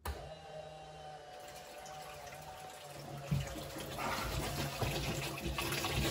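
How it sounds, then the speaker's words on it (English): The live well aerator pump on a bass boat runs, a steady hum with faint water flow. A louder rush of flowing water kicks in partway through and then keeps going, with no talk. "I can turn the switch on to turn my pump on for my forward aerator."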